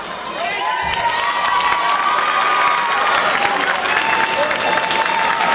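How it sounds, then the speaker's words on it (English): Auburndale crowd applauding at a high school basketball game, a dense sustained round of clapping with scattered cheers and squeaking sneakers, steady and fairly loud throughout with voices mixed in. "The crowd from Auburndale gives him a big round of applause."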